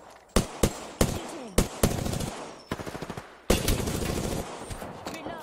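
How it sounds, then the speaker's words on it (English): Gunfire in Apex Legends: loud single shots, then rapid bursts and a sustained automatic stream, all close and punchy. "We could start shooting one of them right here."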